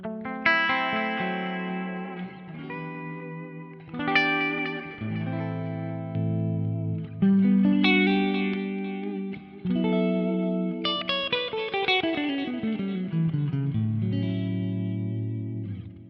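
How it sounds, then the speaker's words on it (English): Clean electric guitar played through a pedalboard with delay, sustained chords and picked notes ringing out with echoing repeats and trailing decay, one phrase sliding downward, loud and without talk. "If I put a bit of delay on there,"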